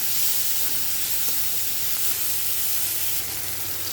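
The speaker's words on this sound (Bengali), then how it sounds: "টমেটোটা ভালো করে ভেজে নেব" Tomato and browned onion sizzle steadily in a hot pan, a continuous soft frying hiss with no talk.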